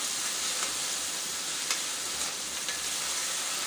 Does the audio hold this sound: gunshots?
no